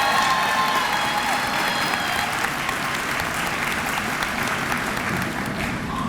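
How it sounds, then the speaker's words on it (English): Sustained audience applause at a winter commencement ceremony, a dense, steady wash of clapping from a large crowd that holds at an even level throughout. "Please give her another round of applause."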